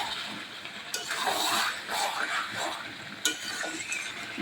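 Bengali chicken kosha is stir-fried in a pan, a soft sizzle rising and falling beneath scraping stirs, with a couple of sharp utensil clicks against the pan.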